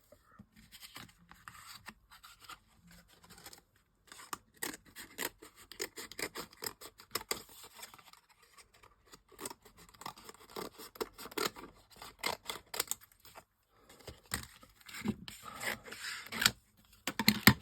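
Scissors snip away excess background paper from a craft piece for an advent calendar project, a run of close, quiet cutting and rasping strokes that speed up and grow louder toward the end, with no voice over them.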